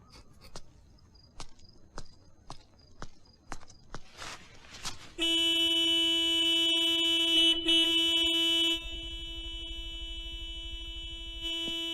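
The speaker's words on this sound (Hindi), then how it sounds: "इतनी जोर से हॉर्न मत बजाइए।" A few soft footsteps, then a car horn blares loudly and holds for several seconds before continuing at a slightly lower level.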